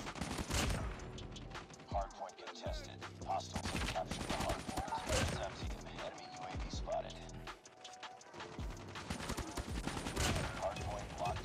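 Rapid hip-fire bursts from a KN-44 assault rifle in Call of Duty Mobile, dense repeated gunshots in quick volleys with brief pauses, loud and close, alongside game sound effects.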